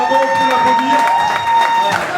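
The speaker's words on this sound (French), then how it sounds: "Voilà, bravo, on peut l'applaudir." An audience at a farewell-tour stage show applauds and cheers, with clapping and shouts spread across the room. A loud voice speaks over the crowd throughout.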